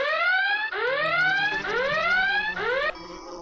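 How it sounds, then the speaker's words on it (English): An in-game alarm in Asheron's Call sounds alone as repeated rising electronic sweeps, four bursts in quick succession, loud and close, ending in a steady tone. "I have an alarm that goes off whenever an admin walks by"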